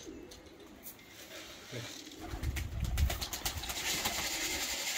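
Soft, low pigeon cooing rises and falls in the background, with occasional faint rustling and outdoor ambience around it.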